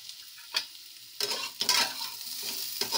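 Softened potatoes with coriander powder, red chili powder and garam masala fry in a pan for aloo parval, as a light sizzle punctuated by several close spatula stirs and scrapes, quiet, with no speech.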